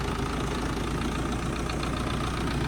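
A tractor engine drives along in third gear with no load, a steady, loud diesel rumble and clatter running unbroken throughout, close up and with no speech.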